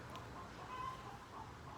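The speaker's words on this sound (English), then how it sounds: "Our chickens are going nuts if you can hear them in the background." Chickens cluck faintly in the distance beside a garden, soft intermittent calls over a steady outdoor background hiss.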